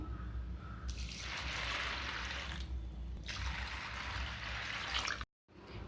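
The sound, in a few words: water poured over washed lentils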